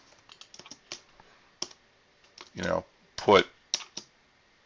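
Keys on a computer keyboard click in short, uneven bursts of typing, close and fairly quiet, with a person speaking briefly in between.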